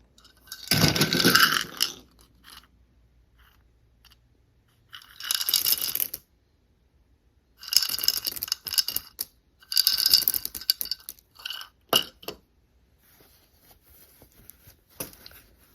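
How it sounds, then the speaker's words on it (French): Dried beans poured into a small hand-sewn fabric pillow, giving several bursts of rattling, pattering grains with short pauses between pours, fairly close and alone. "je vais remplir ma petite oreiller de haricot"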